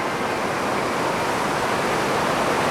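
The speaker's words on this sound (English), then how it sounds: "Whoops, a bit of rain coming now." Rain and gusty wind at a beach during a kneeboarding event in Jeffreys Bay, a loud steady broadband wash like surf or downpour, with no break and no voices.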